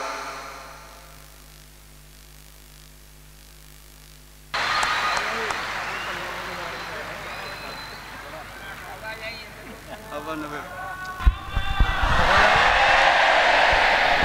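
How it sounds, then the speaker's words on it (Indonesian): Applause from an audience for the preacher Kiai Haji Anwar Zahid at a religious gathering, a broad clapping wash that swells after a speaker talks, with a voice over a PA heard throughout. "Tepuk tangan sekali lagi buat beliau, Kiai Haji Anwar Zahid."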